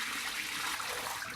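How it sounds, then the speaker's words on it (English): Water from washing fresh herbs poured out into a kitchen sink, a steady close rush and splash that holds evenly for its brief length with no talking. "dump the water into the sink"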